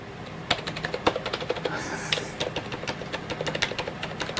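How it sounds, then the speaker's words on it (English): Typing on a computer keyboard used with an Altair 8800 emulator: a steady run of sharp, close key clicks at an uneven rhythm, with no talking over them. "let's just see if the keyboard works."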